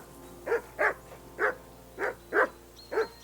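Repeated barking from a dog in Kingdom Come: Deliverance 2, six evenly spaced loud woofs near the listener, with a faint thin tone briefly sounding at the end and no voices.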